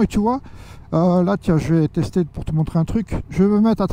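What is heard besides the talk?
None of the usual background noises is heard.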